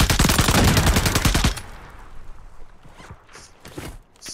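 Rapid automatic gunfire in the Call of Duty Warzone video game, a loud close burst of evenly spaced shots lasting about a second and a half, followed by fainter, scattered distant shots and clatter.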